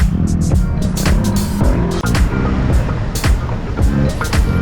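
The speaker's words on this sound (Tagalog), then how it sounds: "Medyo traffic ngayon dito kasi maraming kalsada na inaayos ngayon dito" Road traffic in Lobo, Batangas on streets under repair, cars passing close by one after another with rushing engine and tire noise in repeated loud swells.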